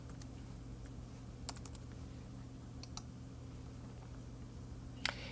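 Typing an email address on a computer keyboard, a few scattered faint key clicks over a low steady hum, with a slightly louder tap near the end.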